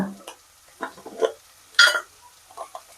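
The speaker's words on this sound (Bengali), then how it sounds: "টক দই এটাকে ভালোভাবে ফেটে নেবো প্রথমে" About seventy to eighty grams of sour yogurt are beaten in a bowl, heard as a handful of short, irregular, close whisking and scraping strokes with quiet gaps between.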